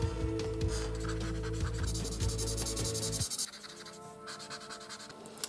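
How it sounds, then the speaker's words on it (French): A purple marker colours in a simple Halloween drawing, steady scratchy rubbing strokes close up over a faint humming background, pausing briefly before lighter scratching resumes. "Avec un violet plus foncé, je peux venir faire les ombres et dégrader ensuite avec mon violet plus clair"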